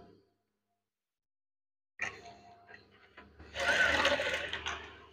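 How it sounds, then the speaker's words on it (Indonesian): Sewing machine stitching curtain fabric for a barbershop divider, heard after a silent pause as brief handling sounds and then a close, whirring run of stitching lasting about two seconds. "Saya akan menjahitnya."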